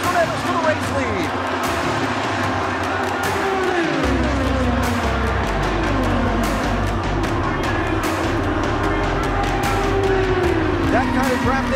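IndyCar race cars roar through the final lap of the 2014 Indianapolis 500, a constant engine drone with shifting pitch sweeps as cars pass, heard under continuous excited commentary.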